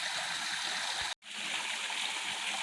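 A small waterfall and stream pour steadily into a pool on wooded private land in Dennard, Arkansas, a close, continuous broadband rush with a brief dropout near the middle and no talking.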